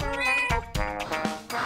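A cartoon cat meows repeatedly in an animated anti-smoking public service announcement, the drawn-out, loud, tonal meows following one another closely with short breaks.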